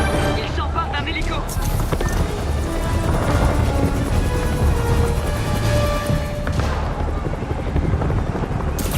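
A helicopter in the Spider-Man video game makes a steady, loud rotor drone that runs the whole time, mixed with game crashes and effects, while a voice talks over it.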